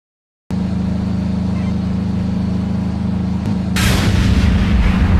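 In the Minecraft Flans Mod game, a nuclear artillery shell fires over a steady low mechanical drone, with a sudden loud blast near the end that spreads into a broad roaring rumble.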